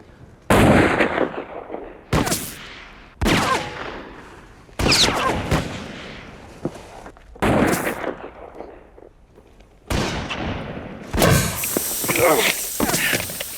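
Gunfire from a French historical drama comes as a series of loud, sharp shots spaced a second or two apart, each with a ringing tail, and the last one is followed by a burst of noisy aftermath.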